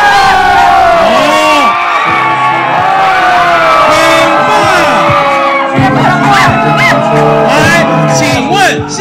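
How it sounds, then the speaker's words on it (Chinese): Loud crowd cheering and whooping for a contestant at a live stage event, high-pitched shouts and screams from many voices, sustained and close. "请问是 PS 比较快的，请举手，欢呼声来一下"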